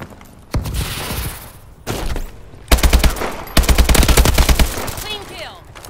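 Call of Duty: Advanced Warfare gunfire comes in loud automatic bursts of rapid shots with short pauses between them, alongside in-game voice callouts.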